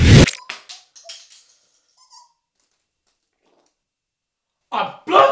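A dog in a comedy sketch gives a loud close bark at the start, then several smaller yips and whimpers trailing into silence, followed by two more sharp barks near the end.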